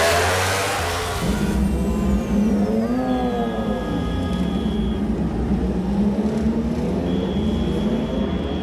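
A motorcycle engine revs up nearby in the MotoGP paddock at Brno, its pitch climbing and then holding at a high, buzzing whine over a steady rumble.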